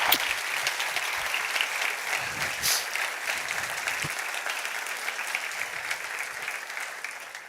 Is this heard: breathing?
no